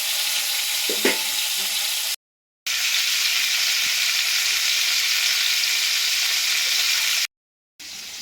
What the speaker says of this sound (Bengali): পটলটা ভাজা হতে হতে